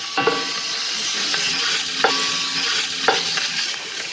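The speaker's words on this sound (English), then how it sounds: "I'll put the meat right in." Lamb meat hits a hot pan with pancetta and garlic and sizzles steadily, with a few sharp scraping stirs cutting through the close, even frying hiss.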